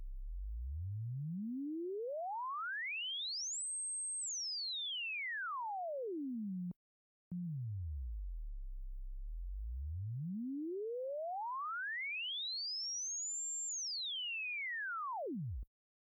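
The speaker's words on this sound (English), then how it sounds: "as I sweep this sine wave from a lower frequency to a higher frequency" A pure tone glides smoothly up from a low hum to a piercing high pitch and back down, with a brief break before sweeping up and down again.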